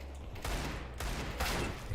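Rapid video-game gunfire from Counter-Strike comes in three quick, fairly quiet bursts of automatic shots.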